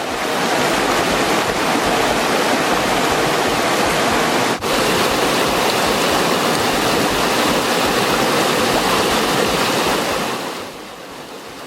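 Heavy, continuous rain and rushing creek water on Hinchinbrook Island in North Queensland make a loud, dense roar that holds steady throughout, then eases slightly at the very end.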